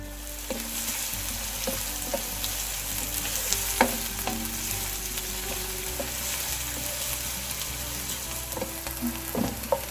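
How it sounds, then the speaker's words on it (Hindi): Onions and garlic frying lightly in olive oil in a pan, giving a steady soft sizzle throughout with a few scattered clinks and stirring knocks, at moderate level and without talk. "प्याज बस हमने लाइट फ्राई करने।"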